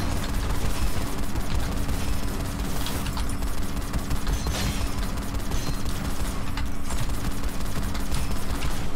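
Heavy continuous gunfire fills a Gunfire Reborn co-op match, a loud dense barrage of rapid shots and mechanical clatter with occasional heavier bursts, sustained for the whole stretch and no voices.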